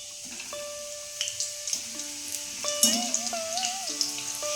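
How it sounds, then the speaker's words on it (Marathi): Pieces of leftover chapati fry in hot oil with a soft, steady crackle, quiet and continuous, alongside faint background tones and no speech. "शिळ्या पोळ्याचे तुकडे जे केलेत ना, हे यामध्ये तळून घेऊया आपण."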